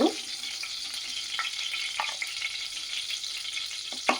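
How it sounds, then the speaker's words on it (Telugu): Capsicum fries in a pan for a vegetable biryani capsicum curry, giving a steady close sizzle and hiss with a few soft stirring scrapes and clicks, and no talking. "క్యాప్సికము మంచిగా ఫ్రై అయినాయండి."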